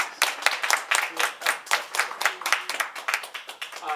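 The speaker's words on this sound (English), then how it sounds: "Let's give him a round of applause." A live improv theater audience gives a round of applause, a bright, fairly close burst of many hands clapping in quick, slightly pulsing rhythm for several seconds.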